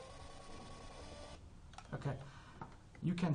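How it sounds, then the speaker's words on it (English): A small handheld thermal printer prints a spirometer report in a series of brief whirring, ticking bursts, with a steady hum of background noise beforehand. "the small handheld thermal printer is printing out the results."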